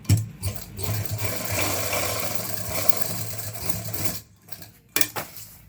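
A sewing machine runs steadily, stitching a coat, with a continuous mechanical whir for about four seconds before stopping, then a few brief restarts and clicks near the end.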